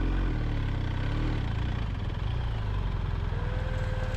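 A BMW adventure motorcycle engine runs steadily in a sand pit during off-road riding, with a low continuous rumble that holds near and loud throughout, its pitch shifting slightly as the rider works the throttle.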